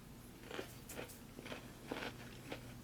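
Crunchy cracker-coated MRE beef ravioli in meat sauce being eaten, with several distinct close bites and crunching chews spaced irregularly over a low steady background hum.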